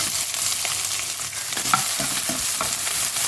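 Garlic cloves, some peeled and some still in their skins, crackling and sizzling steadily in hot oil with a spoon scraping and stirring now and then, close and alone.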